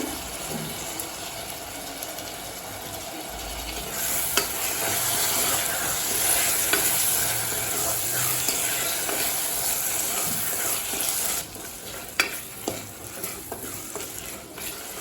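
Tomatoes sautéing in oil in a pan for a green gram gravy, with a continuous bright sizzle and hiss and intermittent stirring scrapes, close and fairly loud, no talking.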